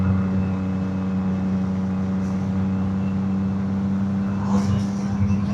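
A 2026 CFMoto 675NK motorcycle riding in fourth gear at just under 40 mph, its engine drone steady and loud throughout with a slight rise near the end as throttle is opened.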